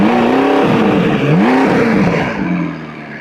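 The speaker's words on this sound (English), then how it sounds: "So rev it up real quick, see if it smokes." A McLaren engine revs hard in sharp throttle blips, pitch rising and falling twice and then settling to a steady, fast idle, loud and close with no talk.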